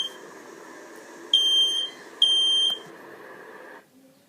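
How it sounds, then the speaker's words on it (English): An electronic home smoke or fire alarm sounds two sharp, loud beeping bursts over a steady background hum, then the sound cuts off near the end. "the warnings sounded by the ringing fire alarm bell installed in your home"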